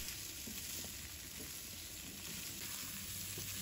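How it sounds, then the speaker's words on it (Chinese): Chopped apples sizzle and fry as they are stirred in a pot with beef for a curry, a faint, continuous crackle with soft scraping of the stirring. "我们再把刚才切好的苹果倒入锅中，把苹果的甜味跟香气把它给炒出来"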